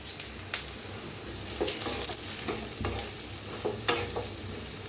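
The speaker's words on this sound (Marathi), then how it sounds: "तेलात आपण भेंडी बी भाजून घेऊया" Okra frying in hot oil for a spiced yogurt okra curry, a steady sizzle broken by stirring scrapes and clinks from a utensil, close and continuous with no voices.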